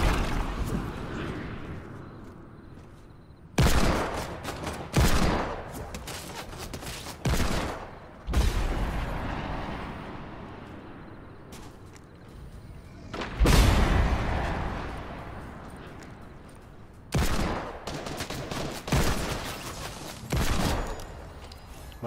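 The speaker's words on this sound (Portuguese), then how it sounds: "Tem gente atirando pra lá." Bursts of gunfire in the video game Fortnite: several loud, rapid volleys, some close and some farther off, separated by short gaps with a low background rumble.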